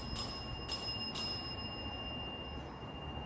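A bell rings at abandoned condos, three sharp strikes in quick succession near the start, then a faint fourth later, over steady background hiss with no talk.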